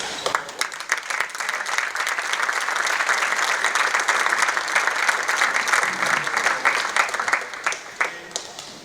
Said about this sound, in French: un grand merci et beaucoup d'applaudissements pour...